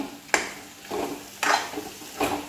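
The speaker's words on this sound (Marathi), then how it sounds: "सगळा मसाला त्या भेंडीला लागेपर्यंत परतूया।" Fried okra is stirred into a sizzling masala gravy in a pan, with three distinct spatula scrapes against the metal over a low, steady frying hiss.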